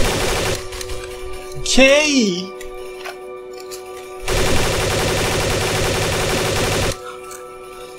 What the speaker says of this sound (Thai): แต่ว่าปืนกลนี้ยิงไม่ค่อยแรงเท่าไหร่เนี่ยพอให้ซอมบี้ถอยได้เฉย 30 วิ